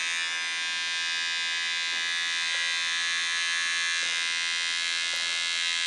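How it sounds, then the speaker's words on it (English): Cordless hair clippers buzz loud and close in a barbershop, a constant high steady whine with faint clicks, no talk. "Closer than a lot of the other little clippers that I've used in the past."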